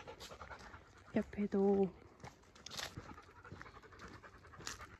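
Bella, a dog resting after a walk on a forest path in Portugal, breathes in soft, quick pants close by at low volume, with someone briefly speaking and some light rustling.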